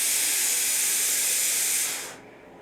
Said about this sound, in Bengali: এবারে এর মধ্যে দিয়ে দেবো হচ্ছে কুচো করা পেঁয়াজ